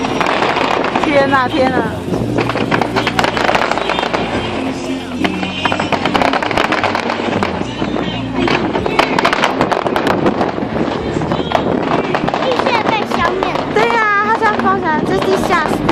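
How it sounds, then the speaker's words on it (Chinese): Low-altitude fireworks at the Penghu fireworks festival burst in a rapid, continuous barrage of loud cracks and crackling pops, close and overwhelming, while excited onlookers, including children, shout and talk over the explosions throughout. "比较低一点的低空的烟火"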